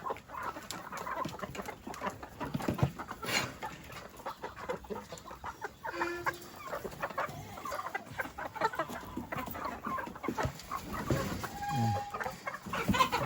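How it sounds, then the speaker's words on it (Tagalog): Chickens on a farm cluck and squawk busily up close while being fed, a noisy flock with overlapping calls and scratching, no talking. "Ayan, yung mga manok. Papakainin na natin. Ayan sila, nagkakagulo na."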